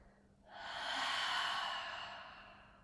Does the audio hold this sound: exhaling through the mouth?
yes